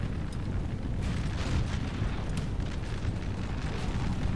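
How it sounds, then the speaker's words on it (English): Artillery cannons fire in a Napoleonic Total War 3 4v4 battle, a continuous dense rumble of booms and battle noise that stays loud throughout with no clear pauses. "Maybe get a fire off, a volley of, cannon fire."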